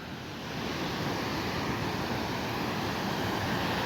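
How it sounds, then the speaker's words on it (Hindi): Huge Arabian Sea waves crash and roll at high tide, a steady loud surf roar with wind buffeting the microphone throughout, no voices. "बहुत ह्यूज वेव्स।"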